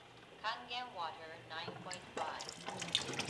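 Tap water with a pH of 9.5 runs steadily into a quart container, a continuous splashing and trickling stream beneath a voice talking over it.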